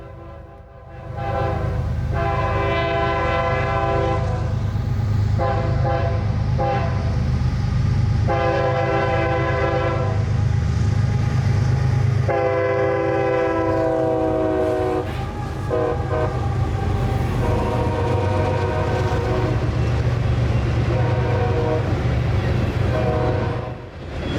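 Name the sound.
loaded phosphate freight train with three GEVO locomotives passing, horn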